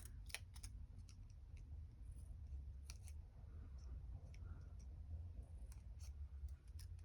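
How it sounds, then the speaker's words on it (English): Scissors make a few quiet, crisp snips while trimming paper butterfly antennae for a mixed-media craft tag, heard as scattered sharp clicks over a soft low hum. "I'll just trim the antennae"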